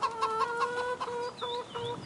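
Chickens clucking on a farm in Farming Simulator 25 on PS5, a steady run of close, mid-loud clucks and short squawks with no talking.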